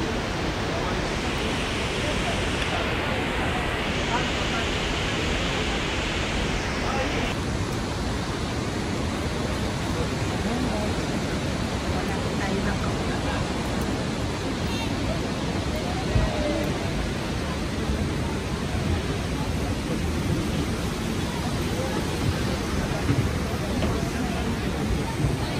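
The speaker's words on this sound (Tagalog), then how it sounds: "Ganda ng falls na to, diba?" A waterfall rushes in a steady, dense roar of falling water, loud and unbroken from start to finish, heard up close and outdoors.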